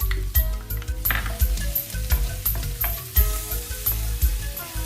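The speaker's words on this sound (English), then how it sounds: "In a large wok over high heat, add canola oil and saute the chopped garlic and ginger." Chopped garlic and ginger saute in canola oil in a large wok over high heat, giving a steady, loud sizzle with repeated stirring scrapes and light clinks throughout.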